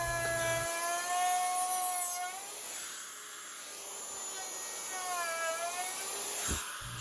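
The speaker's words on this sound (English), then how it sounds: "I just opted for the router, and honestly it worked just as well" Woodworking router cutting dados in a board along a clamped straight edge for a kitchen island, a loud high-pitched whine holding steady with pitch dips as the bit loads, close and continuous.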